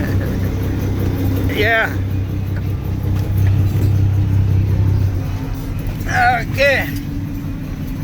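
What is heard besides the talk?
truck engine as it drives off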